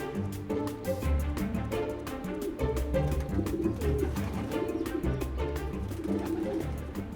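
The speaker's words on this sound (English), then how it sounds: "the experienced pigeons are just arriving back now" Homing pigeons coo and flutter around their loft on returning, with soft overlapping calls and wing noise close by over a dense, steady bed of bird sounds.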